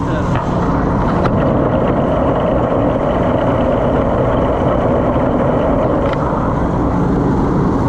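An old Oliver 525 combine harvester engine runs with a steady, low drone, without a break, with faint mechanical rattles riding on top of the broadband rumble.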